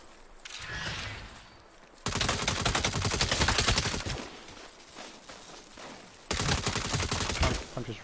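Rapid automatic gunfire from Saints Row rattles in loud sustained bursts, a short quieter stretch between two long volleys, with faint scuffling underneath.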